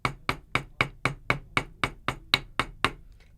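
A small hammer taps a jewelry ear wire flat, about a dozen sharp, evenly spaced metallic strikes close to the mic, each ringing briefly before the next.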